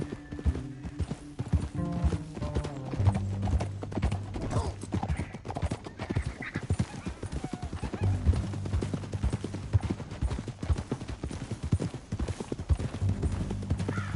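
Horses' hooves clip-clop in a steady, uneven rhythm over a low musical backdrop, the hoofbeats close and continuous throughout.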